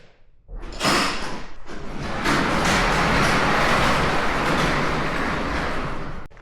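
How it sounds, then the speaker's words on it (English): A shop door is opened, giving a thump and then a long rolling rattle like a large sliding or roll-up door, loud and close, lasting several seconds. "So I'll just open the door."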